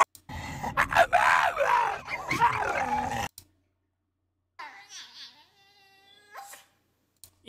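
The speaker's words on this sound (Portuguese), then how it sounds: "Um vídeo traz um cachorro latindo de forma peculiar." A dog makes odd, voice-like vocalizations, a loud groaning burst followed after a pause by softer, drawn-out whining tones.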